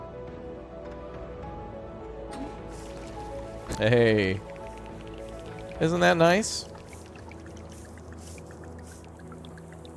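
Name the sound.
water pump waterfall splashing in a city builder video game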